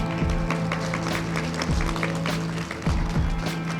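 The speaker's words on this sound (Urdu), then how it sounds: "Round of applause." Applause and scattered clapping from a crowd at a third anniversary celebration right after the cake cutting, steady and moderate with a few sharper claps standing out, mixed with a low hum of the event.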